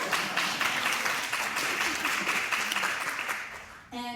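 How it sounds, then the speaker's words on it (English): Theatre audience applause at a performance of the musical Ride The Cyclone, a dense, continuous roar of many hands clapping at moderate distance, fading near the end. "That's a good clap."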